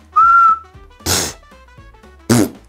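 A person gives a single short, steady whistle to trigger a cheap key finder, followed by two loud broadband bursts of noise, with quiet gaps between.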